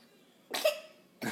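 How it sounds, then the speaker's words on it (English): A single sharp cough comes right after drinking, a short close burst with a second cough starting just after, otherwise quiet. "Cough it out."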